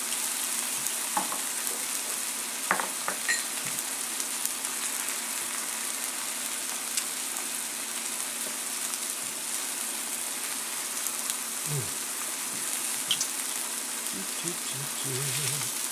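Meat searing steadily in a pan for a birthday dinner, a constant close sizzle with occasional soft clicks and utensil taps, no voices.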